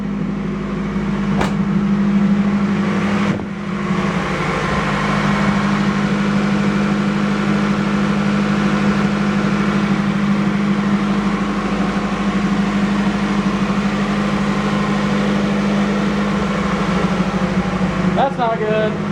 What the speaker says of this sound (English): Although I hear like a hissing noise.